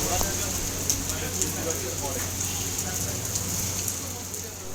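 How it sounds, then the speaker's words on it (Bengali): Heavy rain pours steadily outside, a dense even hiss with scattered drops tapping on surfaces, and a voice talks faintly beneath it. "বাইরে দেখছি ঝমঝম করে বৃষ্টি নেমে গেল"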